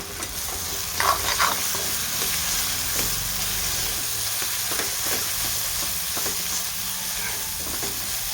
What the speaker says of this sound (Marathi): हे पण आपल्याला छान मिक्स करून घ्यायचे